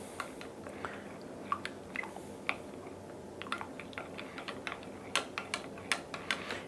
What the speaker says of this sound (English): now I'm going to just give this a good mix